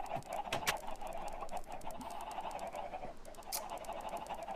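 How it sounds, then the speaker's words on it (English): Chickens cluck and chatter continuously at a low level, with a couple of brief sharp clicks or taps mixed in. "How do I get in without letting out the chickens?"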